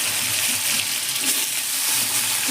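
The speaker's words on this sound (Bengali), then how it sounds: "এবার আলুগুলো তেলের মধ্যে দিয়ে দিচ্ছি।" Potato pieces sizzle in hot oil in a pan, a loud, dense, steady frying hiss heard up close and unbroken, with no voices.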